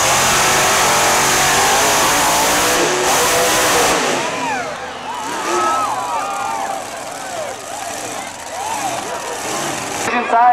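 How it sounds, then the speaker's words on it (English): A monster truck engine revving loudly at a monster truck show in Redding, California, a roaring burst that eases into a lower rumble, with an announcer talking over it. "Monster truck action."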